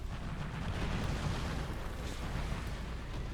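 A tank cannon in the War Thunder video game, Panzer III J1, heard as a dull, rumbling blast with a sustained low roar that fills the whole stretch at moderate loudness, no voices.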